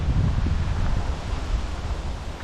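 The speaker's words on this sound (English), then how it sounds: "nice to hear the rustle of the wind in the leaves" Wind moving through leaves in Dalkeith Country Park, a continuous rushing rustle with low gusty buffeting on the microphone, fairly loud and steady with no talking.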